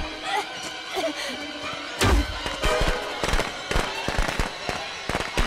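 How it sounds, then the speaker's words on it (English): Firecrackers in the Friday the 13th video game burst in a rapid string of sharp cracks and pops, loud and close, starting with a big bang and crackling on irregularly while a player's voice talks faintly underneath. "Thank goodness for firecrackers."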